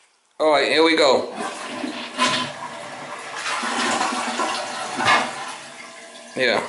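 Toilet flushing during a toilet flange repair, a loud close rush of swirling water that holds steady for several seconds before refilling, with a person talking over it.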